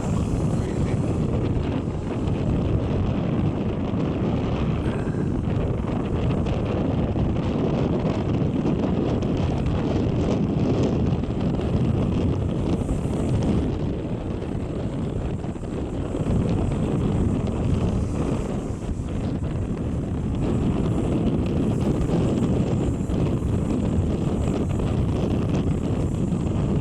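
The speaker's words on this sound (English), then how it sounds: "A little bit breezy this morning. Quite breezy." Steady wind buffets the microphone on the open deck of the Balmoral cruise ship, a continuous loud low roar with gusts and no pauses, nobody speaking.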